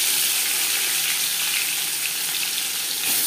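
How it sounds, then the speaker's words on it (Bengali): Bhetki fish frying in a few spoonfuls of hot refined oil, a steady dense sizzle and crackle that holds evenly throughout at close range with no voices. "4-5 চামচ রিফাইন্ড অয়েল গরম করে নিয়েছি। দিয়ে দেব মাছ।"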